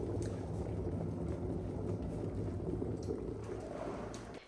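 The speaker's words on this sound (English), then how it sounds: "Once the water in the pot is boiling vigorously," Water boiling vigorously in a pot on the stove, a continuous loud bubbling and rolling churn that holds steady throughout before dropping off slightly at the very end.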